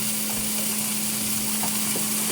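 Meat fries in a pan at home, a steady close sizzle and hiss with a constant hum underneath and occasional soft pops, with no voices present.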